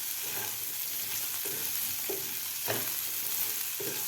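Boiled potatoes and peas frying in a pan for aloo matar chaat, a steady sizzle with several scraping stirs of a spoon spaced through it, close and alone.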